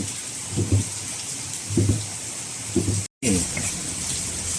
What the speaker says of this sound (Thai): ฝนตก บรรยากาศฝนตก